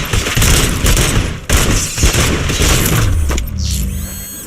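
Heavy gunfire in the RoboCop: Rogue City video game, loud dense bursts of shots with booms and brief gaps, ending in a mechanical whine.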